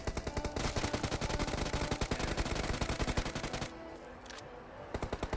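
Rapid automatic gunfire in the battle royale game BGMI, dense repeated bursts of loud shots for several seconds, then a brief pause before a few more shots resume near the end.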